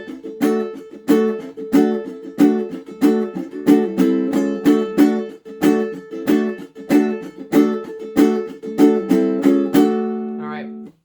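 Ukulele strumming the intro pattern of a song, a brisk, even rhythmic strum of repeated chords played close and clear, ending with a sliding final chord.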